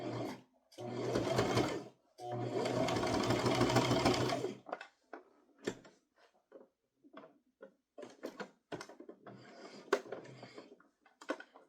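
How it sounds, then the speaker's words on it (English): A home sewing machine stitches straight across the edge of a bodice piece in two short bursts, the second longer, followed by scattered clicks and handling sounds in a quiet room. "I'm going to sew it close towards this edge here of the bodice piece"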